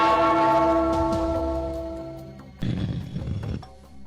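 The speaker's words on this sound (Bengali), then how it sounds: "ওই ঘন্টাটা বাজাও, বাজাও।" A bell with a long ringing tone sustains and slowly fades over a few seconds, followed by a burst of rustling noise near the end.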